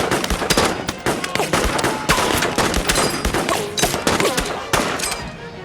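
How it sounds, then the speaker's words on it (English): Rapid gunshots crack in dense, loud bursts, one after another, close and harsh, with no pause between volleys. "A single gunshot rang out, throwing the entire crowd into chaos."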